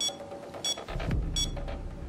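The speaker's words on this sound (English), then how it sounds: "Stupid camera, yes, beep away, why don't you?" Security camera in the video game Payday 2 gives several sharp electronic beeps at even intervals, with a brief thud and muffled low rumble in between.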